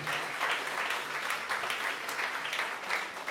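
An audience at a French-language real estate talk applauds steadily, a dense, even wash of many hands clapping throughout.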